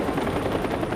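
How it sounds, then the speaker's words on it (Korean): A police helicopter flying low over a factory and striking protesters, its rotor a loud, steady pulsing roar with no voices over it. "이 계획대로 경찰 헬기는 공장과 시위대 위를 저공 비행하며 파업 노조원들을 위협했습니다."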